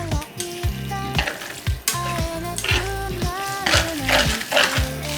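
Boiled noodles stir-fried in tomato ketchup sauce for Napolitan, loud close sizzling with repeated rhythmic scraping and clanking of a utensil against the pan throughout.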